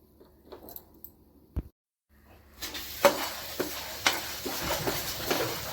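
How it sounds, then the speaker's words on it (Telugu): Chana dal, moong dal and toor dal roast dry in a pan: soft clicks, then a brief silence, then louder rattling scrapes and jangling taps as the lentils are stirred, close and without talk. "పచ్చిశనగపప్పు పెసరపప్పు ఈ మూడు రకాల పప్పుల్ని దోరగా వేయించుకోవాలి"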